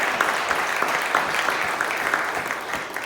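A church congregation applauds at a capital campaign update, dense steady clapping filling the room for a few seconds with no talk.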